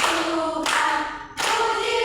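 A class of children claps hands along with a cheerful Christian classroom song during a teaching lesson, steady clapping filling the clip with a short dip partway through.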